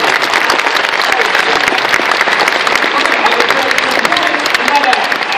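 An audience at a comic convention applauds loudly and continuously, a dense close roar of clapping with no break throughout.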